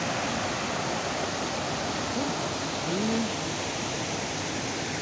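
A river in the Mixteca Alta of Oaxaca, near Tamazulapan del Progreso, rushes steadily and loudly close by, a dense unbroken wash of flowing water with no voices over it.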